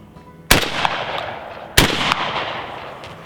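Two sharp, loud shotgun blasts from reloaded Aguila shells fired outdoors, spaced over a second apart, each followed by a lingering rumble and echo.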